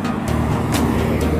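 Busy street traffic with many vehicles, a dense continuous roar of engines and tires with a few swishes of cars passing close by, loud and steady.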